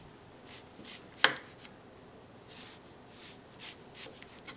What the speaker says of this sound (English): Now, we cut the onion.